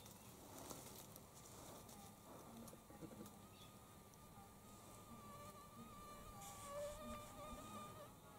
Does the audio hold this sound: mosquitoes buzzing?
yes